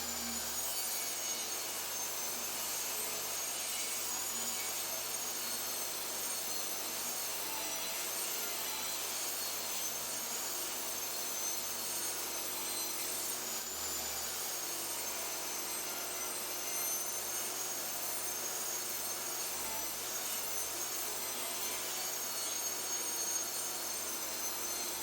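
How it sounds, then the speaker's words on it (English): A table saw edge-joints and rips a wooden picket down to width, giving a steady, loud, continuous whine and cutting hiss that runs without a break for the whole stretch. "the first thing I'm going to do is edge joint and rip this first picket down to 5 inches."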